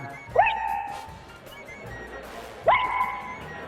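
A comedian on a Kannada comedy stage imitates a dog, giving two short, rising yelping whines spaced a couple of seconds apart over a low background murmur.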